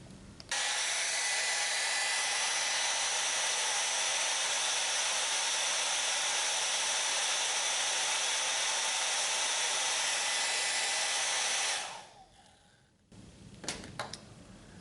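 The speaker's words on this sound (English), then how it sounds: "Here is just a hair dryer" A hair dryer runs steadily with a loud, even whoosh of air for about eleven seconds, then switches off and winds down, followed by a few faint clicks and handling noises.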